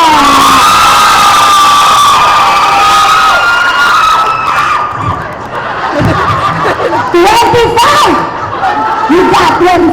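A lively crowd at a Sexbomb Girls show at Lucky China Town cheers, shouts and laughs continuously for a contestant, loud and close, with an announcer's voice over the noise.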